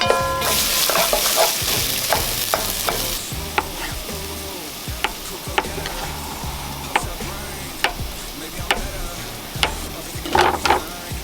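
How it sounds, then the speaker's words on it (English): Onions fry in olive oil in a pan with a constant close sizzle, punctuated by repeated knocks and scrapes of a utensil stirring against the pan, with no voices. "Add a decent amount of olive oil and chuck in your onions."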